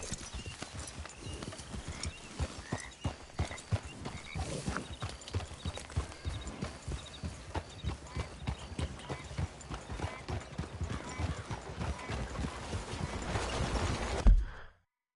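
Steady rhythmic clip-clop of horse hooves walking at an even pace in the video game Red Dead Redemption 2, close and continuous, with an occasional snort near the end.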